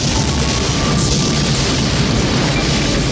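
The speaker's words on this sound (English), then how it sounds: "All you knew was the fucking White House got blowed up." Huge explosion of the White House from the Independence Day movie trailer, a loud, sustained booming roar with rumbling debris that fills the whole moment without letup.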